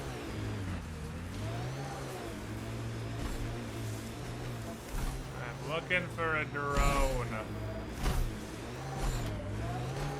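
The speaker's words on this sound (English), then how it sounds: "I like how when you get in the car, it takes a few seconds for the car sounds to load." A car engine in the video game Mass Effect hums and revs, rising and falling in pitch, while someone talks over it and game dialogue plays.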